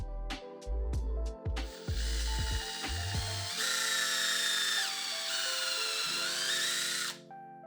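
A power drill driving screws into a wooden frame, several short whirring bursts followed by a longer, rising high-pitched run, loud and close.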